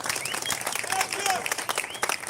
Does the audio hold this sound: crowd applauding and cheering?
yes